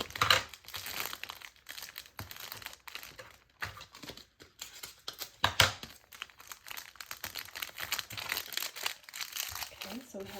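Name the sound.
taping a package shut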